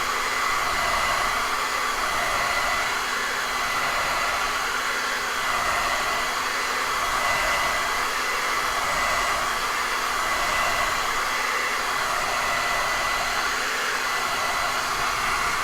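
Hair dryer blowing on a wet acrylic painting, a steady close whoosh of rushing air with a faint motor whine, slowly wavering as it is swept back and forth, alone without any voices.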